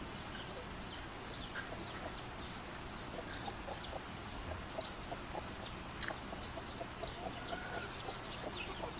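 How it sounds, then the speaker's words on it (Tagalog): Chickens cluck and peep in scattered short bursts against a steady outdoor background hum, with no talking. "Paon na mong mga manok."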